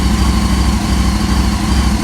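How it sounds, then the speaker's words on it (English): Aprilia motorcycle with a modified exhaust idling cold, a steady, loud, close-up rumbling tick-over with an even pulsing beat throughout and no talking. "this is on tick over, cold tick over"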